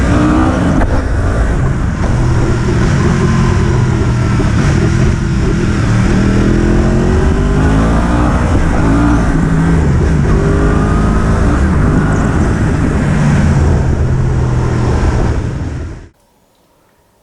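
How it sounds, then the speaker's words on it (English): A loud Yamaha MT-10 (FZ-10) inline-four motorcycle engine revs and runs hard close by, its pitch rising and falling steadily, then cuts off abruptly near the end. "this is a 4-in-line engine, typical for Yamaha, a high performance engine"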